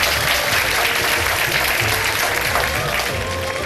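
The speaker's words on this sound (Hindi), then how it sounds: "तालियां तो बजा दे" A studio audience at a Ramadan iftar television show applauds in a dense, even wash of clapping that holds steady for a few seconds.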